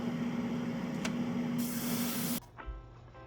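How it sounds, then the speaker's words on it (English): Badger Renegade Chrome airbrush at about 15 psi spraying Tamiya NATO Green thinned with lacquer thinner, a steady close airy hiss that cuts off abruptly, leaving a faint fan hum. "I'm using a Badger Renegade Chrome at 15 psi, or about 1 bar"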